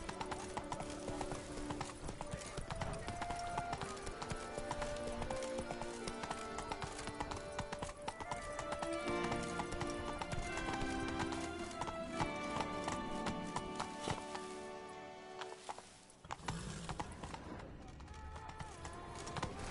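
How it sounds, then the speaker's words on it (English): A horse gallops in a video game: a steady, rhythmic clip-clop of hooves runs continuously under busy game music and effects, moderately loud throughout. "Run, Roach."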